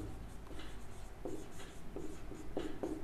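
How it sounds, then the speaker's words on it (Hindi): Pen on paper while solving a math problem by hand: light scratchy strokes and short scribbles in uneven bursts, close and quiet, with no voice. "अब हम लिखेंगे"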